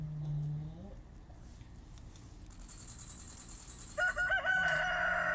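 Chickens on a Stardew Valley farm give a short crowing, clucking burst, followed by bright synthetic game chimes and tones that layer up toward the end over a quiet, steady background.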